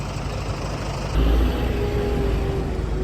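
An MTZ 1025.2 tractor fitted with a 160-horsepower MAN diesel engine runs steadily nearby, its low rumble growing heavier and louder partway through.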